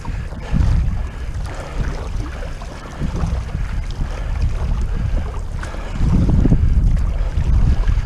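Wind buffeting the microphone while paddling a stand-up paddleboard against the current on open water, a loud continuous low rumble that swells and eases in gusts, with faint water sounds beneath and no talking.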